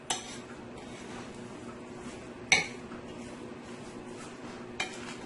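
Tuna fish cake ingredients are mixed in a bowl with a utensil, giving a soft, steady stirring sound broken by three sharp clinks against the bowl.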